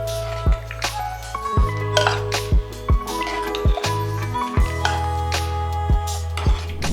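A ladle clinks repeatedly against a metal pot while pumpkin and mixed vegetable stew is stirred and served into a bowl, giving a series of sharp metallic taps at irregular intervals over a low background hum.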